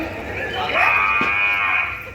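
A black buffalo lets out one long, loud, drawn-out moo with a steady tone. It stands close by over faint background noise at an open-air village nautanki folk-theatre performance.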